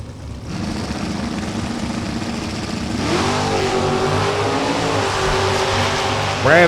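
Drag race cars roll in at a Topeka drag strip, including a big-block 440 1971 Mopar, with loud sustained engine rumble that rises as revs climb, and a public-address voice faintly under the noise.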